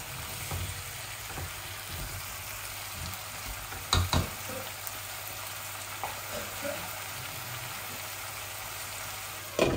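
Baga air fish frying in a pan gives a steady, moderate sizzle, with a few sharp clanks of a utensil midway and at the end.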